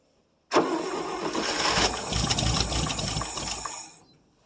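A 1959 International B120 4x4 with a leaking carburetor starts from cold: the engine bursts loudly into life and runs roughly for about three and a half seconds before cutting out and fading.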